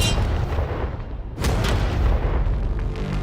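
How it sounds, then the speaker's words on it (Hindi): A tank's main cannon fires a single loud, close shot at a target, with a heavy booming blast that rolls into a sustained rumble and debris noise; no talk is heard. "ये 5 टैंक्स पैसों पर निशाना लगाकर 20 राउंड फायर करने वाले हैं"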